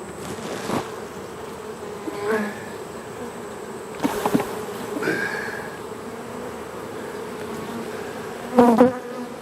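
Honey bees buzz continuously around an open hive outdoors, a dense steady drone with individual bees zipping past the mic now and then, louder near the end, with no talking.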